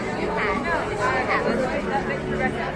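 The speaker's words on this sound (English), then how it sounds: "now we're in the middle of a huge moving crowd" A huge crowd moving through Universal Studios fills the air with dense, steady chatter and babble from many voices nearby, continuous and unbroken throughout.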